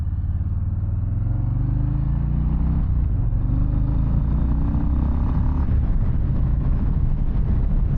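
A 2024 Harley-Davidson Low Rider S motorcycle pulls hard under acceleration, its deep engine rumble climbing through the revs, then a brief gear change before rising again, heard close from the rider's seat with wind noise throughout.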